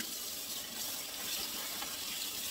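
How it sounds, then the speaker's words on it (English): Faint tap water runs steadily as celery stalks are rinsed at a kitchen sink, a soft continuous hiss with no talking. "So I'm going to get that rinsed off."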